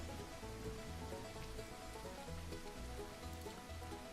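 Steady rainfall in the video game Wild Roots, a continuous even patter of rain on surfaces mixed with a low looping background music bed, no speech.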